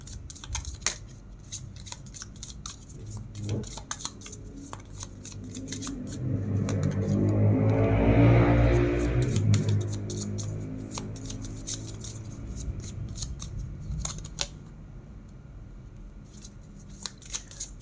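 Tarot cards shuffled by hand in a quiet room, with soft riffling and sliding that swells into a denser, louder burst of card noise midway, then settles back to scattered light clicks and handling sounds.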